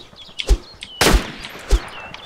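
Sniper shots ring out in DayZ, three sharp cracks spaced irregularly, the middle one loudest and closest with a long ringing tail, over faint ambient birdsong.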